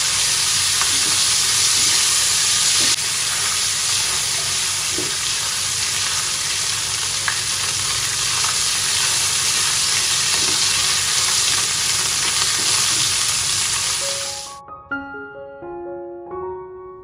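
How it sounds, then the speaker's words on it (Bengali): Chicken fries and is stirred with spices in a hot pan, giving a loud, steady sizzle with occasional scraping stirs; near the end the sizzle cuts off and a short melodic tune plays. "এটা দেখো এই যে ফ্রাই করে আমি মশলার সাথে মিক্স করে এটা উঠিয়ে নিব।"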